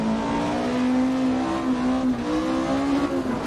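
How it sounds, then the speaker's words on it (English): A rally car engine in the Richard Burns Rally racing game holds high revs in a steady, loud, slightly rough drone with small rises and dips in pitch. "Maybe I'm just revving it higher."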